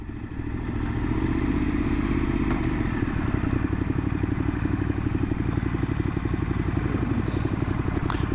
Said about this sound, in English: So he's riding one of Northants unmarked BMWs.